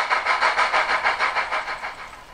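A steady, rhythmic chuffing engine idles with a soft pulsing beat, fading slightly toward the end; no voices. A Brawa model class 01 steam locomotive with new-build boiler, Epoch IV, digital sound.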